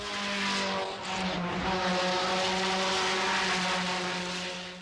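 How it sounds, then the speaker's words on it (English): Nissan Pulsar race cars roar along a track, a loud, sustained buzzing engine drone with a brief dip early on before building again, rising and falling like passing cars. "They were Nissan Pulsars that sounded like dive bombers."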